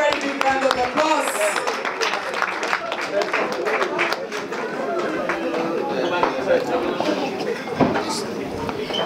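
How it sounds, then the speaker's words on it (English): A crowd applauds a birthday girl at her 50th birthday party, sustained clapping mixed with chatter and a voice speaking over it throughout. "Can we please give her a very, very big round of applause?"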